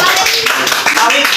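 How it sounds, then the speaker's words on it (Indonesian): A classroom of fourth-grade students claps for a classmate, a dense burst of hand claps filling the moment at close range, with voices mixed in. "Tepuk tangan untuk Bang Bima dulu."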